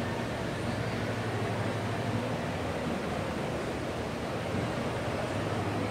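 A constant rushing hiss of an indoor waterfall in a mall fills the space, broad and steady without letting up.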